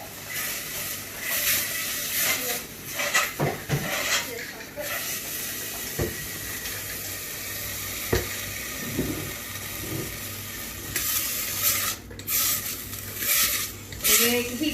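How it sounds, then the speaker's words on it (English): Tomatoes sizzling in a hot pan while being stirred, a steady hiss with scraping stir sounds, heard under a person talking across the clip. "You're going to keep stirring it up and then turn the heat down a little bit"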